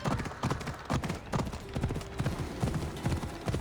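Horse hooves clip-clopping in Assassin's Creed Odyssey, a steady run of close, loud hoofbeats continuing throughout, with a low droning tone in the background.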